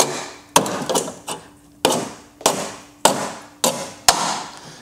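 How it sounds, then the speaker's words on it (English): A hammer strikes a rusty car sill sharply about seven times at a steady, unhurried pace, each metal knock close and ringing briefly. "I can put my little hammer in. And then if I knock this"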